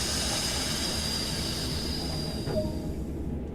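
A diesel locomotive in Train Sim World hums steadily with a constant drone and faint high whine, and a short squeal rises midway as it begins to move.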